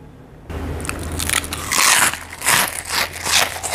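Thick garlic-flavoured pork-skin crackers (kerupuk rambak) crunched between the teeth up close, a quick run of crisp, crackling bites and chewing with no talk.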